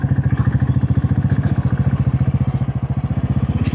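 A motorcycle rides along a bumpy off-road jungle path near Suryachaur. Its engine throbs in a steady, fast pulse, close and continuous, with light clatter from the rough track.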